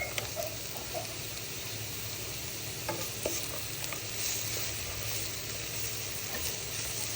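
Onions and green chilies sauté in a pan for a Kerala-style crab roast, a constant close frying sizzle with intermittent scraping and stirring clatter from a spatula, no voices.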